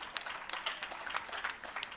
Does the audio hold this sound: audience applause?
yes